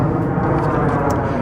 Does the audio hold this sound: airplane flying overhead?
yes